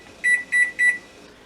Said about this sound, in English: Okay, so my timer just went off.